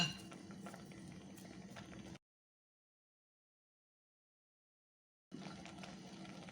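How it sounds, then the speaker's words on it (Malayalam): Thiruvathira puzhukku curry bubbles in a pot with a soft, steady boiling sound and faint clinks, cut by a few seconds of silence in the middle. "തിളച്ച് വന്നിട്ടുണ്ട്"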